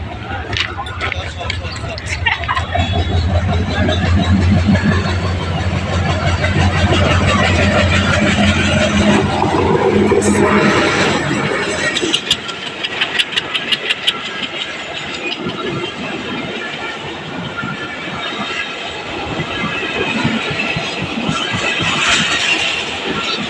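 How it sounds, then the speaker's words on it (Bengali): A train departing a station rumbles and clatters slowly and steadily, with engine noise and rhythmic clacking of wheels on rails as people talk nearby. "মোংলা থেকে ছেড়ে আসছে এই ট্রেনটি খুলনা যাবে"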